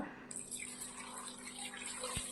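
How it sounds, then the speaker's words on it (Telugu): Water pours steadily into a pot of mutton paya soup with a continuous close splashing hiss, no voices. "నేను ఇక్కడ ఒకటిన్నర చెంబు నీళ్ళు పోసుకుంటున్నా"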